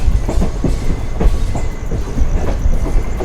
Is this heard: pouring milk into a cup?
no